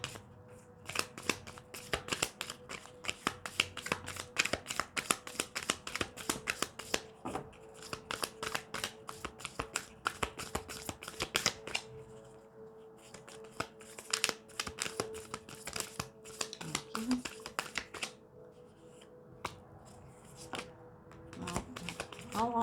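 Tarot cards shuffled by hand in a long, steady run of dense riffling and slapping, close and fairly loud, with brief pauses between bursts and no talk.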